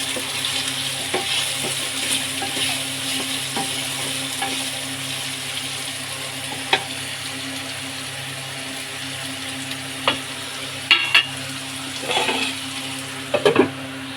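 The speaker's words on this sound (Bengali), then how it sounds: "আলুটা ভাজা হলে ডালটাকে ছেড়ে দেব" Potato pieces fry in hot oil for a chana dal with hing, giving a steady close sizzle broken by occasional scraping stirs and utensil clinks, with no talking.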